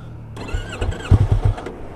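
A motorcycle engine cranks and catches, firing in a few uneven low pulses that grow louder and choppier as it starts, close by and with no one talking over it.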